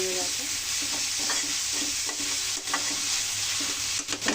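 Chicken pieces frying in a pan with turmeric, a continuous close sizzle broken by repeated stirring scrapes against the pan.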